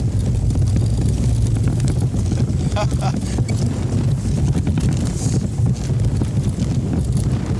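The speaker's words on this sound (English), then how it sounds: "Boy, we got a good wind going there." Strong wind buffeting a sailboat out on a bay, a constant loud rush and low rumble across the microphone with no pause, plus faint creaks and knocks from the boat.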